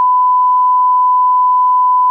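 Telephone dial tone heard while calling someone: a single steady, clean electronic tone held without a break, loud and alone.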